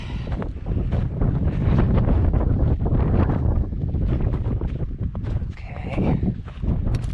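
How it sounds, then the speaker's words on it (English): Steady wind buffets and roars across a microphone outdoors near ice, a loud continuous rush with gusty fluctuations, no talking. "Oh, there's the wind."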